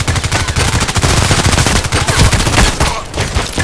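KAC PDW rifle fire in the Contract Wars video game: rapid, loud bursts of automatic gunshots rattle almost continuously, with a short gap near the end before the firing resumes.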